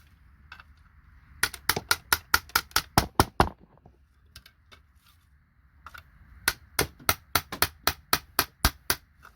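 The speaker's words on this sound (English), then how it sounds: "Just get the hammer and chisel over and done with" Hammer and chisel striking IC chips to break them up for scrap, a fast run of sharp metallic blows in two bursts of about a dozen hits each, close and loud with a short pause between.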